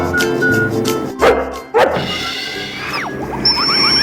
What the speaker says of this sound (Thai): สุนัข